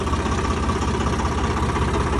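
A tractor engine idles close by with a steady, even low rumble and mechanical throb that holds constant throughout, with no talking over it.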